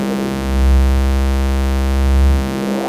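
Mannequins Three Sisters synth filters humming as a steady, loud drone with dense harmonics, its tone swelling and easing while the low-pass and high-pass crossover is adjusted, with no talking.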